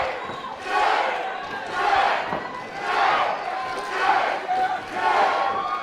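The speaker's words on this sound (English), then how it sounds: "We got a JJ chant going on right now in the crowd." Fight crowd chanting "JJ" in a repeated two-beat rhythm, swelling and falling roughly once per second across the arena, loud and massed with a commentator's voice faintly underneath.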